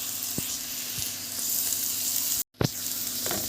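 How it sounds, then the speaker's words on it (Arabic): Sliced onion sizzling steadily in butter or oil in a pan, with a few soft stirring scrapes and one sharp clack of the spoon near the end, no voices. "وبرضه هتاخد تقليبه كده واحده لحد ما تحس ان البصله دبلت شويه"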